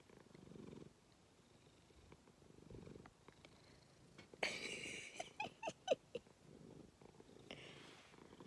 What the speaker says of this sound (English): Little purr box.